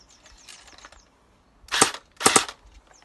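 An airsoft AK rifle fitted with a tracer unit fires two sharp, close bursts in quick succession, preceded by faint mechanical clicking.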